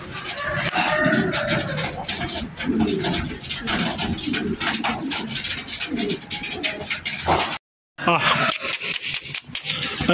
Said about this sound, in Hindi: देखे शबीर भाई, देख सकते हैं कबूतर बैठे हुए आराम से